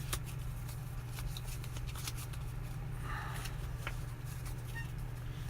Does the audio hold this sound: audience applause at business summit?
no